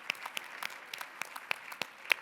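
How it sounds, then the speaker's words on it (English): Scattered, sparse clapping from a small number of guests at the FMSC spring gala at Drury Lane, honoring donors; individual hand claps ring out irregularly over a quiet room. "let's put our hands together and give a big round of applause to all of our very kind donors"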